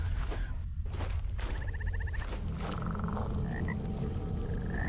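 Several frogs croak in the dark fantasy game Mortal Shell, short rattling calls popping up intermittently over a murky ambient bed, with a soft footstep or two and no talking.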